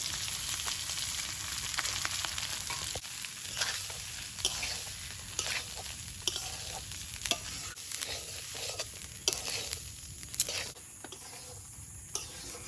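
Rice stir-fried in a hot pan for pulao with bay leaf, cashews, raisins and spices, giving a steady close sizzle and hiss with a spatula scraping and clinking at irregular intervals throughout.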